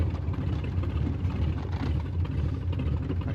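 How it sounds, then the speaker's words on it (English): A 1931 Ford Model A roadster street rod with a 4-speed manual idles low at about 500 RPM, giving a steady, deep, loping rumble heard close and alone. "Our tachometer is reading 500 RPM at idle."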